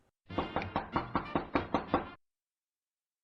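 Knocking on a door in an RPG Maker horror game: about eight quick, evenly spaced hard knocks in a steady rhythm, close and clear, then silence.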